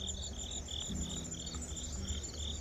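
Crickets or similar insects chirp steadily in a summer garden among basil and flowers, a repeating pulsed trill carrying on evenly throughout at moderate level.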